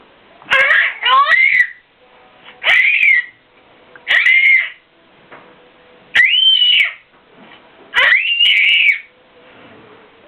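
A child screams in very high-pitched bursts, five shrill separate cries in an uneven rhythm with short quiet gaps between them, loud and close.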